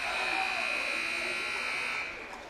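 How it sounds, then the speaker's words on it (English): At a high school basketball game, the buzzer ending the half sounds as a sustained electric buzz held for about two seconds, then cuts off against the gym's background noise. "At the buzzer, at the half, actually."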